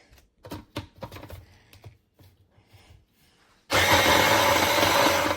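A UTALENT cordless variable-speed immersion hand blender mixes chunky contents, starting with a series of clacking knocks and taps, then switching on to a loud, steady whirring buzz for the last couple of seconds.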